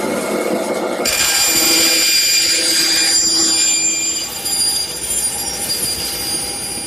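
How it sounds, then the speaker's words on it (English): Oscillating spindle sander smoothing a wooden deck chair template to the line, a loud continuous whine with a grinding rasp that begins abruptly about a second in and holds steady. "I'm smoothing out the template and bringing it right to the line using my oscillating spindle sander"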